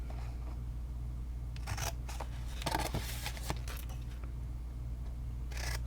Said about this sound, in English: Okay, so I'm going to start with some cutting here.